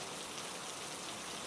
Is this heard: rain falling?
yes